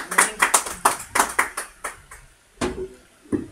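A single person clapping in a church service, about a dozen sharp hand claps in a loose rhythm, close and dry, slowing and thinning toward the end.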